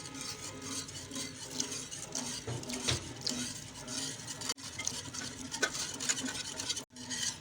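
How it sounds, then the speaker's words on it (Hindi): Whisk scraping and stirring rice paste for phirni in a pan, with continuous rhythmic rubbing and occasional light metallic clinks, moderately close with no talking. "और अब ये मैं इसमें ऐड डालते जाऊँगी और यहाँ पे विस्क जो है कंटिन्यूसली मूव करती रहूँगी।"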